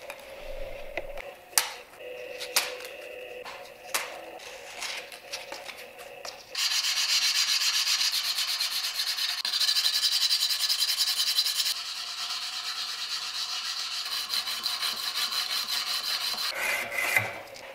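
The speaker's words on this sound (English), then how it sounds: "let's get on sanding" Sanding a hardened steel knife blade by hand, a steady raspy rubbing that runs continuously for several seconds after a few scattered knocks and clatters, close and moderately loud with no talk.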